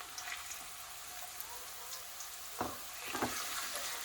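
Small finely chopped onion frying in a pan while being browned for Punjabi kadhi, a steady soft sizzle throughout with a few louder crackling bursts near the end, close and fairly quiet, no talking.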